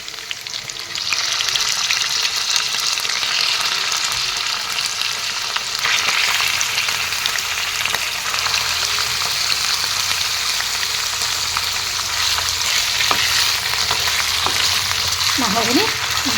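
Chicken pieces frying over softened onions in a pan for chicken curry made without ginger and garlic, a loud continuous sizzle with steady stirring and scraping throughout.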